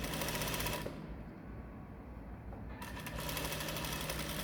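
A sewing machine stitches along the curved side seam of a dress, a fast steady mechanical whir with brief pauses in the rhythm, close and distinct without speech.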